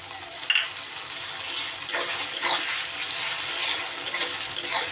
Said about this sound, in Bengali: পেঁয়াজগুলো মোটামুটি একটু হালকা রং হয়ে গেলে এবার আমি দিয়ে দেব কেটে রাখা টমেটোটা।